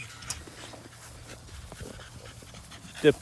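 Two dogs outdoors pant softly and steadily in the background, with a brief whimper near the end.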